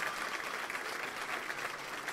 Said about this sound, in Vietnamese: Một tràng pháo tay dành cho ba đội.